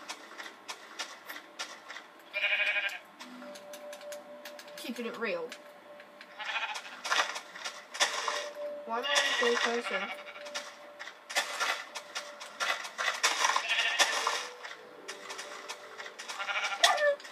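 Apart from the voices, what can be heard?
sheep bleating in Minecraft video game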